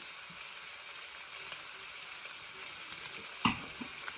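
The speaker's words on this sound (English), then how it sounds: "then I'm going to cook my onion and my garlic" Onion and garlic fry in a pan for pancit with a quiet, steady sizzle, broken once by a sharp utensil clink.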